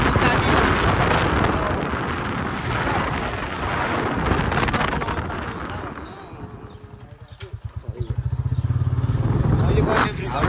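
A motorcycle rides along a road toward a rhododendron forest, its engine a steady close rumble under heavy wind buffeting, with a throbbing, pulsing engine note growing clearer toward the end.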